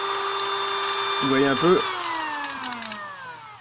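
A high-speed electric drill is revved to full speed, holding a steady high whine with a brief pitch wobble, then winding down in a falling glide, while someone speaks French over it.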